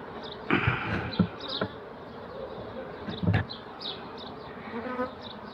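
Honey bees buzz around opened beehives in an apiary, a dense continuous hum of many insects with individual bees droning close past the microphone and occasional handling knocks.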